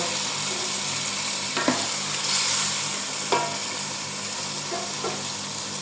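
Mutton cooking in a covered pot with a little added water gives a steady, soft sizzle, broken by a few short clinks and scrapes of stirring, with no one talking.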